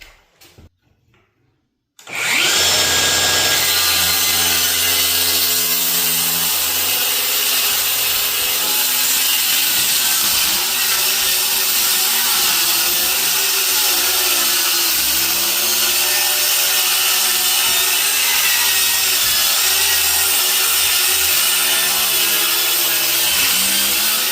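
A FLEX rear-handle circular saw bites into a piece of wood, opening with a brief quiet pause before the blade engages in a loud, sustained whining cut that holds steady for over twenty seconds, with slight dips as the motor bogs under load.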